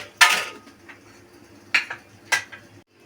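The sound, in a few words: pan being taken off the stove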